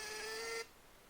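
A NIIMBOT B18 Bluetooth label maker with black ribbon prints a white label: a short, quiet whirring buzz with a steady tone that stops abruptly after about half a second.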